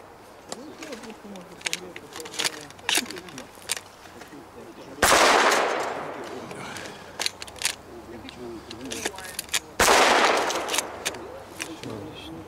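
Sharp shotgun blasts from a Mossberg boom out in two big, ringing reports a few seconds apart, set among scattered lighter cracks and clicks outdoors, with people talking in between.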